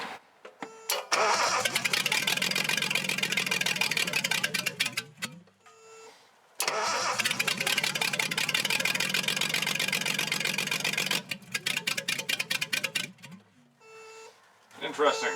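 An engine on a roughly 50-year-old Japanese car, one that sprays raw fuel, cranks and catches twice, runs rough at idle and then dies each time, with gaps and voices between attempts.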